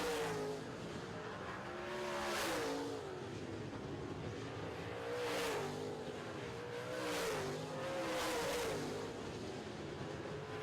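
Late model race cars racing around a track, engines rising and falling in repeated passes with rhythmic revving swells and occasional tire noise, heard from a distance without talk.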